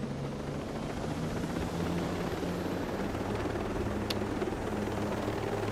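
A helicopter from Ghost Recon Breakpoint drones steadily nearby, a continuous loud rotor rumble with a low throbbing hum and a brief high ping partway through.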